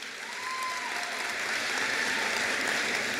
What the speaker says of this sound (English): She too brought her cheering crowd.